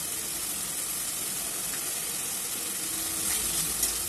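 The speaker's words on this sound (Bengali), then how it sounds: "টমেটো বাটাটা অনেকক্ষণই নেড়ে নেড়ে ভাজবো" Tomato paste seasoned with salt stir-frying in a pan for a spicy Bengali boal fish curry, a steady close sizzle and hiss running throughout with a few soft scrapes of stirring near the end.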